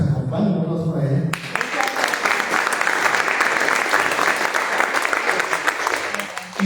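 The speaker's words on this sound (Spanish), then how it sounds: "un aplauso para ella" An audience at a book launch for an author applauds, dense sustained clapping that starts abruptly after a brief spoken moment and carries on strongly to the end.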